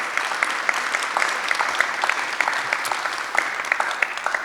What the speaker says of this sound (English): So we clap and thank her for these notes